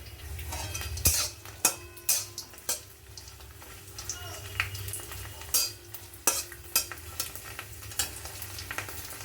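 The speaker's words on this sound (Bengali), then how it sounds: "থোরটা আমি একটু কষলিয়ে নেব" Boiled banana stem being sautéed in a pan, with repeated stirring scrapes and clinks of a utensil against the pan over a soft, steady sizzle, close and fairly quiet.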